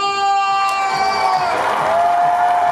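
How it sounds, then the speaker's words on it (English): Crowd at the New York Comic Con 2016 cosplay championship, armor category, screams and cheers loudly, with high, shrill whoops rising above a steady wash of clapping close by. "clap and scream for Alan"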